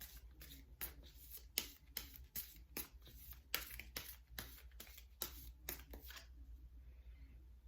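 Chakra cards for a tarot reading are shuffled close by, a quiet, steady run of rapid papery riffles and soft slaps that trails off near the end, with no voice.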